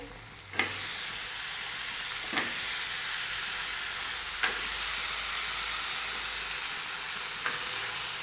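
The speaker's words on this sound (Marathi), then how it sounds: "तेलामध्ये भाजून घ्यायचा आहे टोमॅटो" Tomato and washed cauliflower sizzle steadily in hot oil for a spicy dry cauliflower dish, a soft continuous frying hiss broken by a few sharp clicks of stirring spaced a couple of seconds apart.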